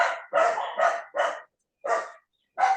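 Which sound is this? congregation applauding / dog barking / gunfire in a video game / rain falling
dog barking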